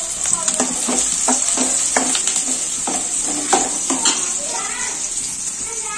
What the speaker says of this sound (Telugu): ఇది దోరగా వేయిస్తున్నారు